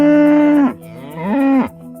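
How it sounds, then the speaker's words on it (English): A cow moos twice, loud and close: a long sustained low bellow followed after a short break by a second rising and falling moo. "The cow."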